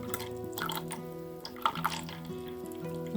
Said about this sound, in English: So let's get some water added